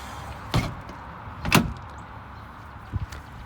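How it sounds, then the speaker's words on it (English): A bus emergency door is opened and closed during a pre-trip inspection, giving three separate thuds and clunks spaced about a second apart. The latch and slam sounds are close and fairly loud, with no talking. "the door should be able to open and close and be on the hinges."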